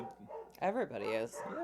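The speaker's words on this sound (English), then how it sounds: "Sorry about the dogs" Dogs bark and yip in short bursts alongside people talking, the barks overlapping the voices at close range.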